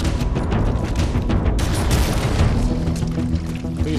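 Explosion in the Halo video game, a dense booming blast with crackling debris that fills the whole moment, loud and sustained without a clear break, and no talking over it.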